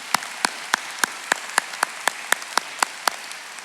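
Evenly spaced sharp claps at a high school graduation ceremony, about four per second, crisp and close with quiet gaps between each clap rather than a dense crowd roar.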